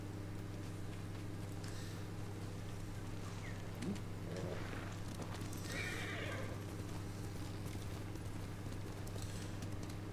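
Horse in the video game Ghost of Tsushima whinnies with a brief neigh, then hooves clop, heard moderately near over a steady ambient game hum and soft wind.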